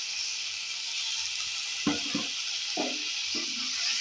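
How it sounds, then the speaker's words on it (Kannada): Garlic, curry leaves, coriander and green chillies fry in a pan for a brinjal gojju. A faint, steady sizzle is broken by a few short scraping stirs near the middle and end. "ಇದನ್ನ ಸ್ವಲ್ಪ ಫ್ರೈ ಮಾಡ್ಕೊಳ್ತಾ ಇದೀನಿ"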